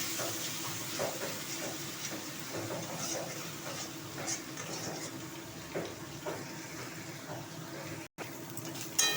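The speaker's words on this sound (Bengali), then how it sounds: "মশলাটা আমার কষানো হয়ে গেছে" Ginger, garlic and chili paste frying with cumin seeds in oil left from frying fish, a steady soft sizzle with occasional stirring scrapes, continuous and fairly quiet.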